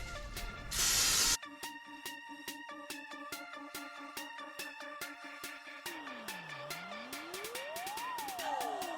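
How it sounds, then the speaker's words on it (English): A single short hissing spray of melted butter over smoked chicken wings on a Char-Griller 980 smoker, lasting under a second, followed by electronic background music with clicking beats and sweeping tones, no talking. "We'll go ahead and spray these with some more butter."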